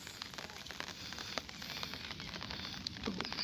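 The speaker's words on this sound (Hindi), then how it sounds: "बहुत अच्छी बारिश हुई है।" Heavy rain falls in a village with a faint, steady crackling patter and occasional sharper drips, quiet and uninterrupted by talk.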